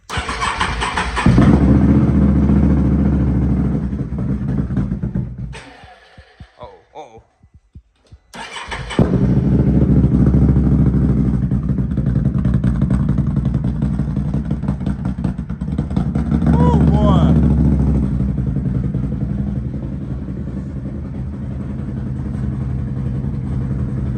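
A Can-Am Renegade ATV engine starts and runs loudly through a new OEM exhaust, a steady low rumble and throb that drops away briefly and then revs back up.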